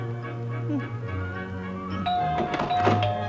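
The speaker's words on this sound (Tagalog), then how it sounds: "Narinig namin ang pagtimbre mo." A doorbell chimes partway through, a bright ringing tone over a background of muffled noise and clatter.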